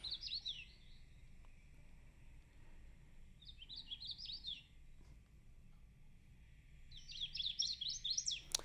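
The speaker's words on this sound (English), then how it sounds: "Chestnut-sided warbler." A chestnut-sided warbler sings three separate bright, quick phrases outdoors, faint and distant over a low steady background hum, with no voices.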